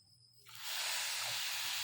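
Water poured onto sugar in a hot karahi erupts into a loud, steady hiss that swells after a quiet start and holds strongly to the end.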